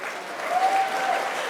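An audience at a talk breaks into a brief, steady burst of applause, loud and full, with no voices over it.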